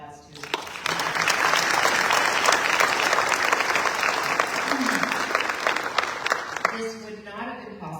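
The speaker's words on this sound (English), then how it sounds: "So, round of applause to" An audience at a scholarship award ceremony breaks into sustained loud applause, a dense roar of clapping lasting several seconds before tapering off.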